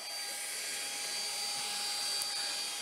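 A machine polisher works over car paint, giving a loud, steady, high whine that holds at an even level without a break.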